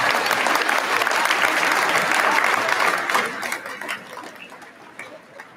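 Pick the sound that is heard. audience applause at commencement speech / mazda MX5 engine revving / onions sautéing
audience applause at commencement speech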